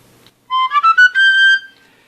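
A tambourinaïre plays a three-hole galoubet pipe with a whistle mouthpiece, held in one hand. It sounds one bright sustained phrase of a few connected notes that rises and then settles, clear and close, followed by silence.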